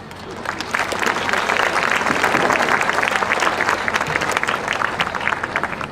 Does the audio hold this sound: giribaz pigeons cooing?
no